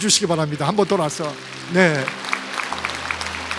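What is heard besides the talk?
congregation applauding in church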